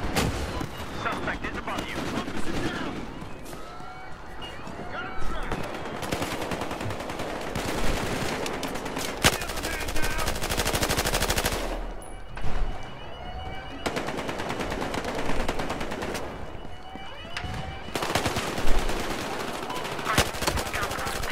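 Gunfire in the video game Battlefield Hardline: dense, continuous exchanges of automatic weapons and single shots with occasional heavier booms, loud and sustained throughout, with someone talking over it at times.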